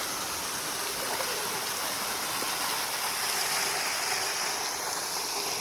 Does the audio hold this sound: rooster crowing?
no